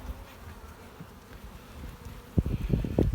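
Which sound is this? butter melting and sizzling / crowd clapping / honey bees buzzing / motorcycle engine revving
honey bees buzzing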